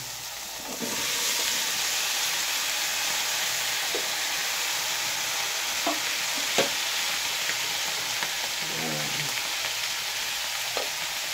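Steady, loud frying sizzle fills a pan as tomato and vegetables go into a coconut-milk vegetable dish with tuna, with scattered stirring scrapes and clinks over the constant hiss.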